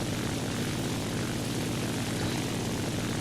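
Steady, droning propeller-engine roar of a G50 fighter plane in a combat flight video game, loud and unbroken throughout with no voices over it.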